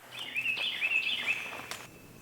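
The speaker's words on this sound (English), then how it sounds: "Serenaded by the birds." A bird sings outdoors on bluffs at sunrise: one clear, high, warbling phrase that lasts about a second and a half over a quiet background, moderately near.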